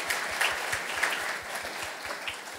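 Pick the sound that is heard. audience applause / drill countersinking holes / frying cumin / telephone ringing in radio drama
audience applause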